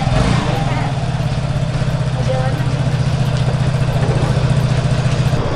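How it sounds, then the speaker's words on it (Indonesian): A new Vespa Dior scooter idles with a steady low, even engine hum close by while people talk over it. "Oke, kita naik motor."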